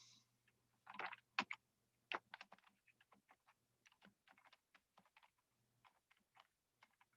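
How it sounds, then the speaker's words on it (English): Typing on a computer keyboard, a quiet run of close, crisp key clicks in uneven bursts, with a faint steady hum in the background. "I'll type it in."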